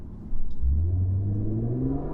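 Nissan Z Proto engine, drawn from the Infiniti Q50 Red Sport 400 with 400 horsepower, winding up under acceleration in Eco mode: a low rumble that swells after a brief quiet start, its pitch climbing steadily, close and strong with no talking.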